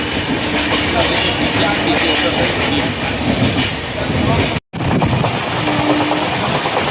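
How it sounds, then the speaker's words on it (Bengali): The Shalimar to Puri Superfast Express rolls along at speed, a loud, continuous roar and rattle of wheels on track heard from inside the train, briefly cutting out before resuming. "আর ট্রেন ছুটছে"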